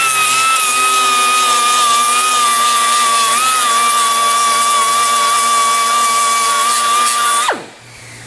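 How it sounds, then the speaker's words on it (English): An angle grinder steadily grinds paint off a car body flange to expose spot welds, a loud continuous high whine held for several seconds that then cuts off and spins down. "the way I'm gonna do that is just grind the paint off a little bit"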